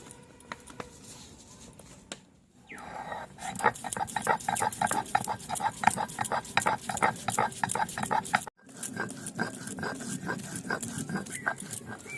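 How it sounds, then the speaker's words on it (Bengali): Cumin and chili being ground into a paste on a stone, heard as rapid rhythmic scraping and patting strokes, close and steady, with a brief pause midway. "আমি এখন জিরে আর লঙ্কাটা বেটে নিচ্ছি"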